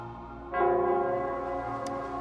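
A bell tolls in the Wuthering Waves game world, one broad resonant strike that enters suddenly and then hangs in a long, slowly fading ring over a steady low ambient hum.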